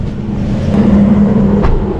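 A parked car's engine idles steadily after being started on an early morning roadside stop, a low continuous rumble with a faint hum, close and constant throughout.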